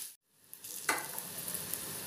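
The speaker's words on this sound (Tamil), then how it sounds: "இப்போ இந்த வெங்காயம் நல்லா ப்ரௌனாக வதங்கட்டும்" Onions and green chillies sizzle in a pan for a prawn curry, a faint, close hiss that cuts out briefly and then resumes, with a light stirring scrape partway through.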